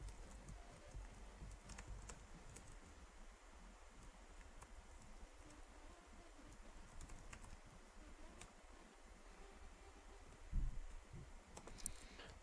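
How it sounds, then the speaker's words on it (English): Quiet, steady clicking of a computer keyboard as code is typed out, keystrokes rattling in irregular bursts with brief pauses and a couple of sharper clicks near the end. "I could just copy paste this, but I'll probably learn more typing it all down."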